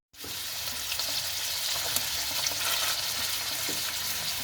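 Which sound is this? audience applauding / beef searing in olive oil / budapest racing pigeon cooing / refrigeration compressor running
beef searing in olive oil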